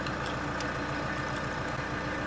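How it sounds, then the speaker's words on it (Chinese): A tractor engine idles with a low, steady, faint rumble and regular throbbing pulses, continuing throughout without any voices. "即使拖拉机轰轰响个不停"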